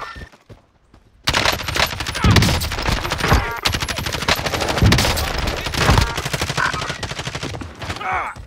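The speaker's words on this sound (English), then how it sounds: "I'm taking shots" Rapid bursts of gunfire crackle through a shooter video game with enemies on the move, dense and loud after a brief quiet start, continuing almost nonstop with a few sharper hits.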